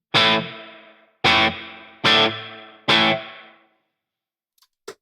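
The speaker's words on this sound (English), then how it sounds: "that's a lot more reverb than what you generally find in a room" Four loud guitar strums or chords played through a pedal's heavily exaggerated reverb, each hit ringing out in a long decaying wash before the next, followed by near silence.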